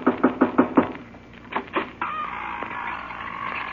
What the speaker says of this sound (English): I better knock on the door.